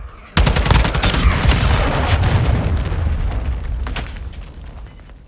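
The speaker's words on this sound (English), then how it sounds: "Friendly cruise missile approaching target." A cruise missile strike in Call of Duty opens with a sudden heavy explosion, followed by sustained rolling blasts and rapid gunfire that slowly fade over several seconds, loud and close.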